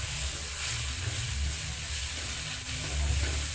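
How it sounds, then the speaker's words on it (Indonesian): Steady sizzling of ground spice paste frying in hot oil, with a low rumbling background hum throughout. "Selanjutnya tumis bumbu yang sudah dihaluskan tadi."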